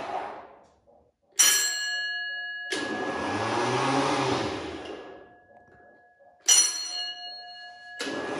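A mechanical bell on a vintage gas station pump rings as the pump runs through its cycle. Sharp metallic clangs come at about three points, with a softer mechanical whir filling the gap between them, close and alone.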